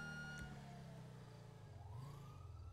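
A police siren in the GTA video game wails with rising and falling tones over a steady low engine drone, close and continuous, with no talk over it.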